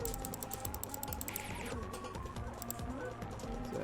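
A computer mouse clicks rapidly during a Terraria game, a quick run of small taps mixed with game sounds and effects, quiet and close.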